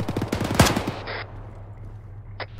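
Close rifle fire in the video game Arma with the RHS mod, a quick rattling burst of about ten shots ending in a louder crack, then a sharp single report and a later faint echoing shot.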